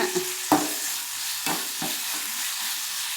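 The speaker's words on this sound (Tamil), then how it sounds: "தக்காளி வதங்கிட்டுருங்க" Tomatoes sautéing in a pan for a tomato-onion chutney, a soft steady sizzle with a few brief stirring scrapes near the start, close and fairly quiet, with no talking.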